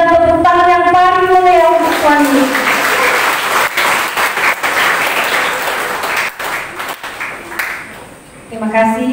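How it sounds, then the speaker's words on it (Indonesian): A congregation at a three-day revival service at a senior high school in Kupang bursts into loud, sustained applause with sharp individual claps, a leader's raised voice heard just before it starts and again as it fades. "mari kita lambaikan tangan dan berikan tepuk tangan yang paling mulia untuk Tuhan"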